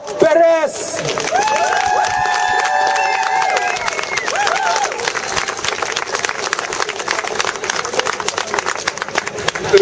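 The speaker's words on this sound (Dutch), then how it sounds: "mag ik de applaus voor onze laatste spreker" Loud applause and cheering from a crowd at a speech event in Utrecht, dense clapping that builds after a brief opening of voices and keeps going steadily.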